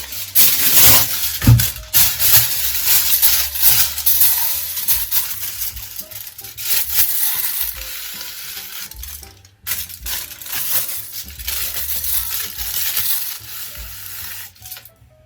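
Continuous crinkly rustling and scrunching of aluminium foil rubbed on hair, close and fairly loud, with irregular bursts and brief pauses throughout.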